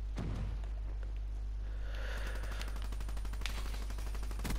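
Automatic gunfire from a hard-recoiling weapon in a video game, a steady rapid burst of shots running through most of the stretch over a constant low hum, with no talking.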